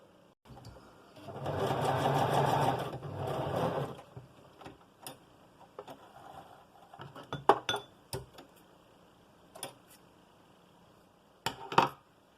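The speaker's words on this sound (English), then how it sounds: "We're going to sew them together, okay?" A sewing machine stitches pieces of a glasses chain together in a quick whirring burst of about three seconds, then small clicks and clinks of the chain being handled follow.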